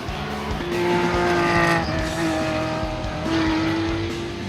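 A GT race car in practice at Virginia International Raceway howls past up close. The loud, steady engine note climbs through the gears, with some tyre squeal mixed in.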